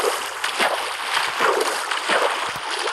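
Splashing and sloshing water in Minecraft, a steady wash of broadband noise with soft repeated splash bursts over about three seconds, fairly close and continuous.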